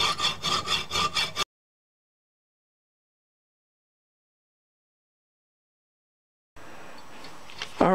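Coarse-bladed hand sawing through wood while mating two splines: a quick run of rhythmic back-and-forth strokes, close and clear, stops abruptly after a second or so, followed by silence and then faint background noise.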